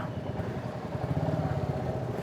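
A Bajaj Dominar 400 motorcycle engine runs close by at a steady idle, a low rhythmic putter with a faint mechanical clatter.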